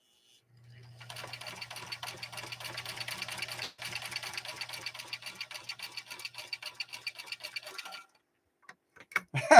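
A Singer Centennial Class 15 sewing machine stitches marine vinyl in a rapid, even mechanical chatter with a low motor hum, running for several seconds, briefly pausing, then stopping before a few faint clicks.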